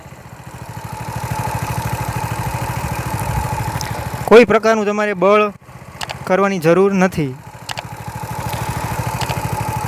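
A Sanedo hydraulic mini tractor engine idles slowly, a steady low throbbing chug heard throughout, while someone talks over it through the middle stretch.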